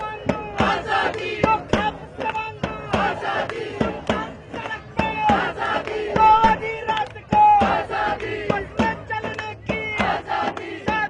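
Crowd of marchers chanting slogans in rhythmic call-and-response bursts at a women's day procession at JNU, loud and close, many voices shouting together.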